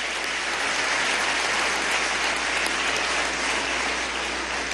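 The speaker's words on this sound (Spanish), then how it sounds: "Un aplauso para este hermano estadounidense." Applause from the audience at a gathering of intellectuals addressed by Venezuela's president: a thick, steady wash of clapping that stays loud throughout, with no voices over it.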